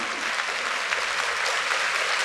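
Audience applause at Ewha Womans University's 140th anniversary ceremony, honoring staff with 10 to 30 years of service; steady, dense clapping from a large crowd in a hall, continuous and even throughout.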